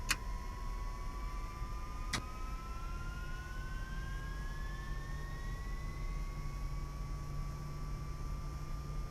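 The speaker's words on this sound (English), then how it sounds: "Okay, it sounds like two good engines to me." Twin jet engines of a Carenado S550 Citation II in the X-Plane 11 simulator running steadily, a constant whine with rising tonal sweeps, two sharp clicks near the start, and a broad rumble underneath, with no talking.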